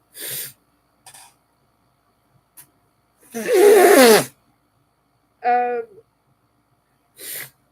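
A single sharp, loud sneeze bursts out in a quiet room, followed shortly by a brief spoken syllable and a few soft noises.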